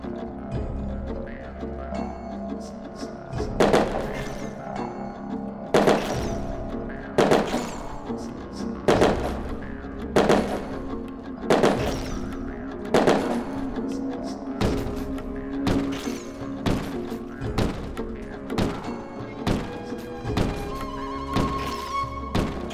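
Carbine gunfire in the twin-stick action RPG Rum & Gun, a steady series of sharp, punchy shots roughly every one to two seconds over a continuous game soundtrack, loud and close.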